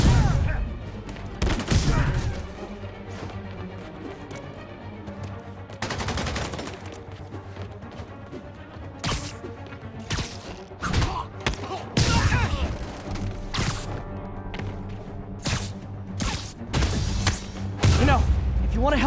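Gunfire from enemies in Marvel's Spider-Man Remastered comes in scattered sharp bursts and rapid volleys across the fight, mixed with thuds, whooshes and game music, with voices talking in between.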